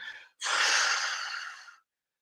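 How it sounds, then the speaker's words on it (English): Dogs in the background let out one loud, breathy huff: a short puff, then a longer heavy exhale that trails off into quiet. "I don't know if you can hear my dogs in the background going."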